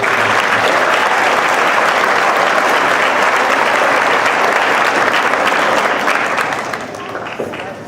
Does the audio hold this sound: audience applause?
yes